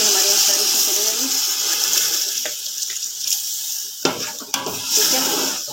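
Yakhni stock pours steadily into a pot of browned beef for white beef pulao, a loud, continuous watery splash up close with a few clinks of utensils near the end.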